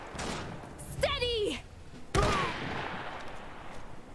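Gunfire in the Iron Harvest game's Polanian campaign battle defending Zalesie: a few sharp, loud shots crack out, with a shouted voice in between and a low rumble of combat behind.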